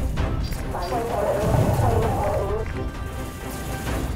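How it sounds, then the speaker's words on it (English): Explosions rumble and crash in the space combat video game Space Crew, a dense stretch of booming blasts and debris noise over a low background, with a muffled voice in the mix. "Explosions everywhere."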